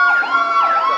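A wailing ambulance siren sweeps up and down in steady rising and falling arcs, loud and close, sounding continuously with no voices over it.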